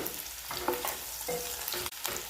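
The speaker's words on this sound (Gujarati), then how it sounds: "આખા જ બટાકાને તમારે તળી લેવાના છે" Whole small potatoes frying in hot oil give a steady, close sizzle with soft bubbling and a few brief stirring scrapes, and no voices.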